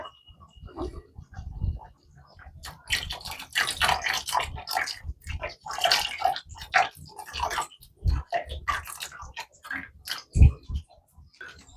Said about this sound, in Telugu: జస్ట్ ఇప్పుడు చింతపండు జ్యూస్ వేసుకుందాం.